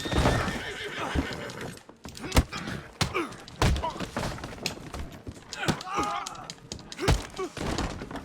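A horse in Red Dead Redemption II whinnies and snorts amid clopping hooves and heavy thuds, with bursts of movement and shouted voices throughout.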